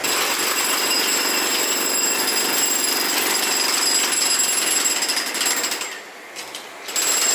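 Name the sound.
jackhammer construction work at Tainan train station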